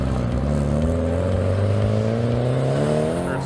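An Initial D-style S chassis car driven hard, engine note rising steadily in a loud, continuous rev with strong harmonic drone throughout, no speech.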